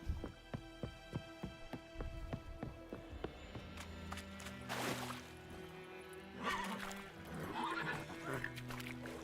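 Roach, the horse in The Witcher 3, whinnies within game audio, rhythmic hoofbeat clip-clop followed by neighs over soft rain, fairly quiet overall.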